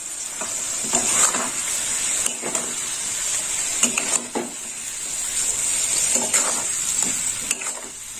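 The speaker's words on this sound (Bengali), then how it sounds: "দইয়ের সঙ্গে আলুটা আবার ভাজা হবে।" Potatoes frying in a pan with whisked yogurt, a bright steady sizzle with periodic spatula strokes scraping and tapping the pan at a slow, regular rhythm.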